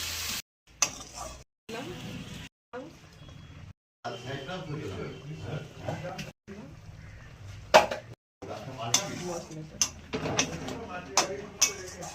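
Spice paste and water sizzle and hiss in a pan for a Bengali rohu fish curry, a close, uneven crackle broken by short gaps and stirring scrapes, with a voice talking over it.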